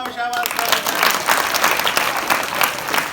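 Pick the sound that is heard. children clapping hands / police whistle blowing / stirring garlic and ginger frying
children clapping hands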